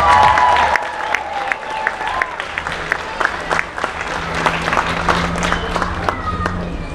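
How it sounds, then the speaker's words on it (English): Applause from a community crowd at an outdoor whistling world record event, steady broadband clapping with scattered whistles and voices mixed in throughout. "give yourselves a very big round of applause"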